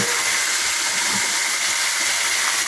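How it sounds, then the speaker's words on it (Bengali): Chicken meat frying in oil with onions in a pan, giving a steady, dense sizzling hiss throughout with faint stirring noises underneath, close and loud. "তো আমি নাড়তেছি তো মাংসটা একদম ভেজে নেব"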